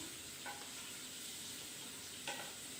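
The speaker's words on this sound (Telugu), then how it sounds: "దోరగా వేయించుకోవాలండి." Ridge gourd peel fries in a pan with a soft, steady sizzling hiss and a couple of faint clinks of stirring. Quiet, close, and without talk.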